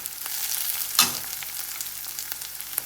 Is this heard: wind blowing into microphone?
no